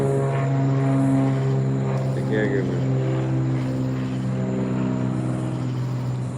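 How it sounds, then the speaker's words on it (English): An airplane drones steadily overhead, a continuous engine hum throughout while a person speaks briefly. "Plane flying overhead."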